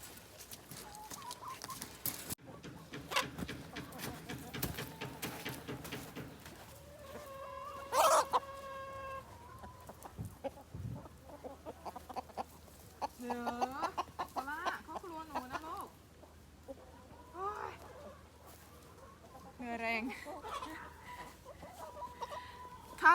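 Chickens cluck and squawk in irregular bursts on a farmyard in Serbia while grass is being cut for them, the calls fairly close and varied in pitch, with a few quieter gaps between.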